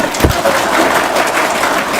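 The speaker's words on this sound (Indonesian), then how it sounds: "Tepuk tangan dong." An audience at a talk claps in a steady, dense wash of applause that runs throughout, fairly loud and close.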